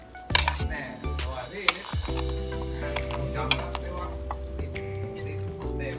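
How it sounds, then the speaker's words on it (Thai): Raw beef larb with chili and spices is stirred and tossed in a bowl, giving close, wet mixing and scraping with a few sharp clinks of a utensil against the dish. "อันนั้นก็คลุกเลยครับยำยำเลยคนให้ทั่วครับ"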